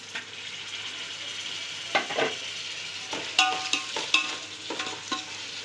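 Tomatoes sautéing in a pan for Ambur biryani after ginger-garlic paste: a soft continuous sizzle with scattered spoon scrapes and stirring clinks, close and fairly quiet, no talking.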